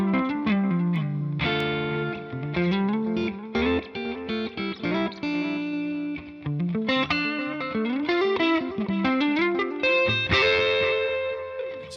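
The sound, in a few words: electric guitar through TONEX JS Copper Gold Alt 4 preset with delay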